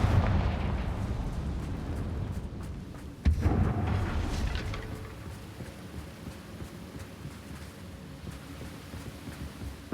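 A fiery Confringo spell blast in the Hogwarts Legacy video game, a deep booming burst with a sharp crack midway that then rumbles and fades into low ambient noise.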